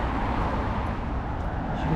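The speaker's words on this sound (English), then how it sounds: "As you can see, there's cars all around me." Cars drive past on roads around someone walking on a bridge over the railway line in Lymington, a steady moderate traffic rumble with no distinct passes.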